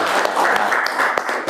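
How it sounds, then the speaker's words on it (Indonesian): A classroom of students gives a short, dense burst of applause for a student, with many hands clapping at once, close and loud. "tepuk tangan untuk Husna"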